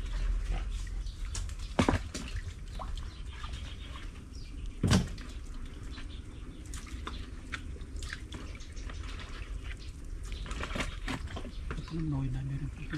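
A dog barks a few times outdoors, sharp and intermittent against steady background noise and dripping water, while people talk nearby.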